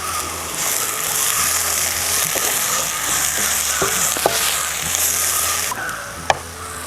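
Onions sauté with a pinch of turmeric in a pan for an egg roast, giving a loud, steady close-up sizzle throughout with occasional light clicks from stirring, no talk.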